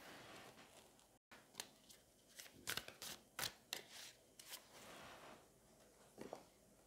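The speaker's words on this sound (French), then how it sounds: "je vais déjà prendre 3 cartes, tout simplement, pour avoir un éclairage un petit peu sur la situation" Tarot cards are drawn from a deck: soft, close papery slides and flicks in an irregular series of brief swishes, faint and unaccompanied by speech.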